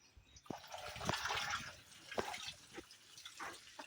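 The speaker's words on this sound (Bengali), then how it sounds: "এরপরে ধোয়ার জন্য আমি একে কলে চলে এলাম।" Water from a tap rinses live daphnia in short splashing bursts and drips, fairly faint and close, with no talking.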